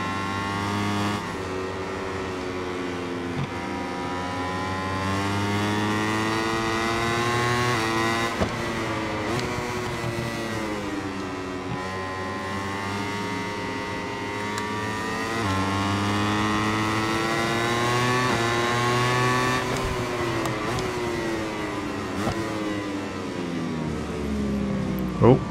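Motorcycle engine in the MotoGP 21 racing game, a steady droning whine whose pitch rises and falls with throttle and braking through corners, loud and continuous throughout the lap.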